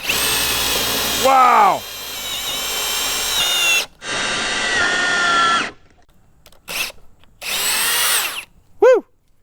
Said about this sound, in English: First time drilling with this thing.